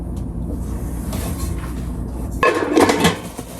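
Non-stick pots and a medium 9.5-inch non-stick frying pan are handled up close: a low, muffled rumble of movement gives way to a brighter burst of clanking and rattling metal partway through.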